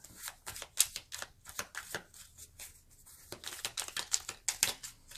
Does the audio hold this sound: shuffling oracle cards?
yes